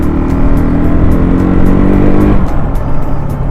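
A KTM RC200 engine, just back from a timing chain repair, holds a loud, steady high-rpm drone and then eases down, heard close with no talking.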